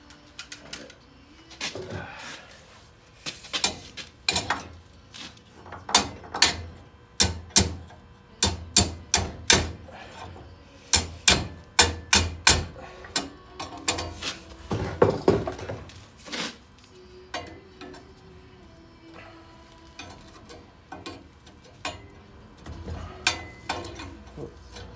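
Sharp metal hammer blows on hot metal ring out in irregular bursts, some in quick runs, close and loud against a quiet background, with a few pauses between.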